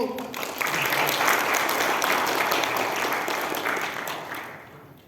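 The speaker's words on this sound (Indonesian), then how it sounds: "Beri aplaus Bapak Ibu." Audience applause fills an inauguration ceremony for new officers, a steady wash of clapping from many hands that swells quickly, holds, and tapers off toward the end.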